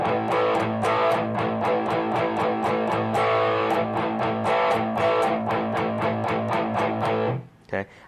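A distorted electric guitar plays lightly palm-muted notes in a quick, steady run, more ringing and sustained than a tight chug, loud and close, ending with a brief trailing strum.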